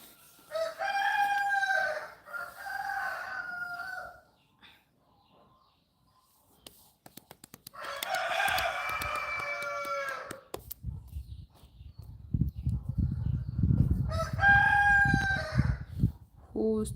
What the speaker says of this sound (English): Whose chicken is that in the background?